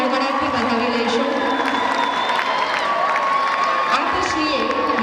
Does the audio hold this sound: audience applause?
yes